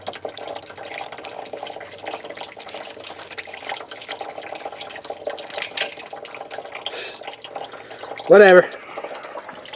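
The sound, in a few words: coolant draining from car radiator hose into bucket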